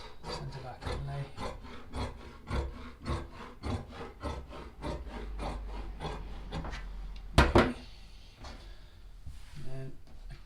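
Tailor's shears cutting through Shetland tweed cloth while trimming the centre back inlay of a bespoke coat, a steady run of close rasping snips and rubs, followed by one sharp louder knock near the end.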